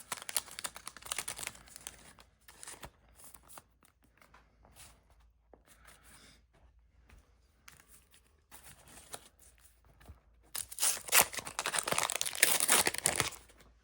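Packs of 1991 Fleer basketball cards are torn open, with crisp wrapper crinkling and tearing in bursts between quieter pauses, close to the mic and ending in a louder run of rustling and ripping.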